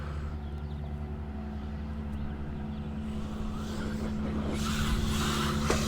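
An Axial Ryft RC truck bashing through mud, its electric motor holding a steady, loud whine that climbs and intensifies toward the end, with no voices over it.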